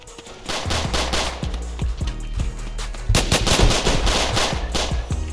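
Automatic gunfire in the Roblox game South Bronx The Trenches, with loud close bursts of rapid shots, a short pause, then another dense volley and scattered single cracks, with no voices.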